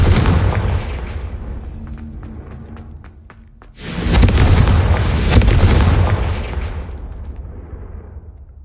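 Confringo fire spells blasting in Hogwarts Legacy: a string of sharp booming bursts that swell into a heavy, sustained roar midway, then slowly rumble and fade.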